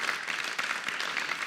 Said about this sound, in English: Can we have a round of applause for all the chaplains that actually do all the serving for the community?